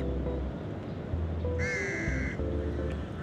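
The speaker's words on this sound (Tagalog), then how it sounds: "Ibon." A crow caws once in Lumphini Park, Bangkok, a harsh drawn-out call over faint low background noise.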